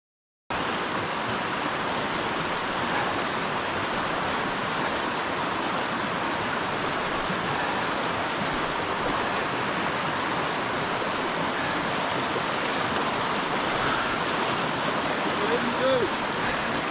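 Steady rushing water of a stream flowing beneath a log crossing on a mountain spur hike, a continuous broadband wash close by with little variation throughout.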